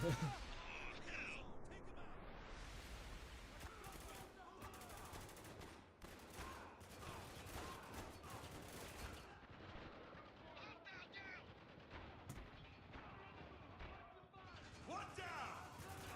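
Pistol gunfire in the war shooter video game Spec Ops The Line, a run of sharp shots mixed with heavier bursts and crashes over a busy, loud game soundtrack.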